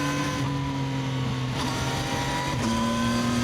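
A 2026 CFMOTO 675NK motorcycle accelerating with quick-shifter upshifts, a smooth rising engine note that drops cleanly at each of two quick gear changes, heard close from the rider.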